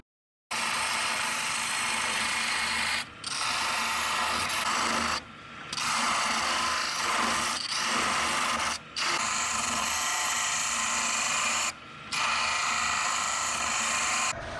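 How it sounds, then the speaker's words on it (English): Wood on a lathe being cut with a gouge, a loud continuous rasping hiss over the spinning machine, broken by brief pauses as the tool lifts off, close and without talk. "I'm going to grab the gouge and show you some work with the gouge."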